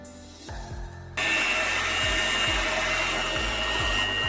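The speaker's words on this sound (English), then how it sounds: "we're going to use a beater for this" Electric beater running in cinnamon cake batter, a loud steady motor whir that starts abruptly and continues close by.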